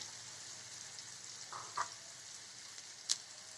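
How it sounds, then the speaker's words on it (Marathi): Mustard seeds crackling in hot oil for a tempering, a faint, steady sizzle broken by a few small, sharp pops. "मोहरी छान तडतडू द्यायची."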